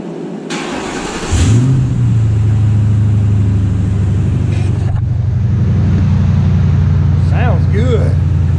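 A 1966 Ford F250 truck engine cranks and catches after an oil change, then settles into a loud, steady idle with a brief rev, as a person talks over it.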